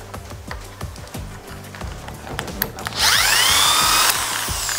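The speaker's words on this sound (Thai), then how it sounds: "ก็เจาะชิ้นทำลายชิ้นงานเข้าไปเลยครับ" Power drill boring out a rivet from a workpiece so the rivet hole stays usable, heard as a loud continuous high whine rising in pitch after several rattling, clattering impacts, close and alone without speech.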